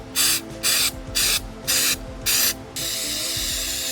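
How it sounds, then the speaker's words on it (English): Carb cleaner sprays onto a motorcycle engine cover plate in five loud, close hissing bursts at a steady rhythm, then settles into a quieter continuous hiss. "the whole thing was sprayed down with carb cleaner"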